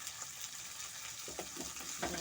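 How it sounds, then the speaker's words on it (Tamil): Tomatoes sauté quietly in a pan for a field crab gravy, a faint, even sizzle with a few soft stirring scrapes toward the end; no speech. "தக்காளி வதங்குறோம்."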